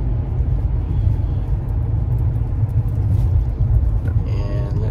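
Interior drone of a car driving through streets in Sicily, a steady low engine and road rumble throughout with a brief faint tonal sound near the end.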